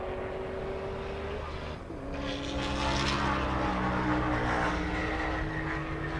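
A Camaro drag race car at a half-mile airstrip drag racing event approaches at speed, its engine building from a distant drone to a loud, sustained roar with rising pitch and no talking.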